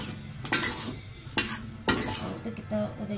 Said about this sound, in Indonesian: Kita letakkan nilainya di piring.